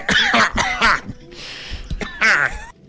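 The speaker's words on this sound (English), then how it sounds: "That's a terrible cough you've got there." A person coughs in several harsh, close bursts, each short and raspy, separated by brief pauses and a soft throat sound.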